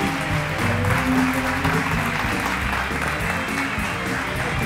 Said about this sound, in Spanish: Un aplauso muy, muy caluroso, por favor, para Alberto Vivó.